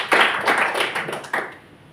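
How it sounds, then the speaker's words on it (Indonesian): Brief clapping from a small men's church gathering, a few scattered bursts of hand claps that fade out within two seconds. "Tepuk tangan dulu Amang."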